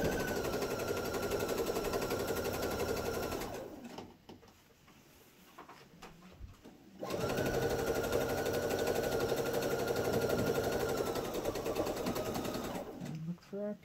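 Sewing machine stitching binding onto a quilt, a fast steady needle rattle that pauses midway for a few seconds of handling noise and then resumes just as loud and close.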